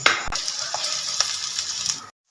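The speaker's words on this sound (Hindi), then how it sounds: "प्याज को हल्का ब्राउन करेंगे" Onions sizzle in about half a cup of hot cooking oil in a pan as they turn lightly brown, giving a steady close hiss broken by a few soft stirring scrapes.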